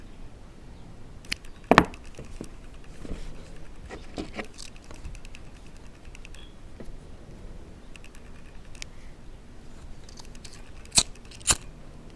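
Scissors snipping yarn on a loom-knit buckle dog collar, a few crisp, close cuts standing out sharply against quiet handling noise.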